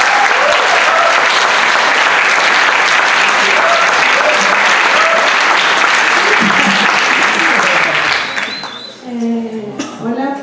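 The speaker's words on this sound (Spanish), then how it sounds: "Por favor, démosle un caluroso aplauso." Dense, loud applause from an audience at an academic panel on audiovisual art fills the room for about eight seconds, then fades out as a voice begins speaking.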